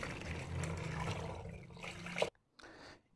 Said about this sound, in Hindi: इसके बाद इसमें हम डालेंगे जनाब पानी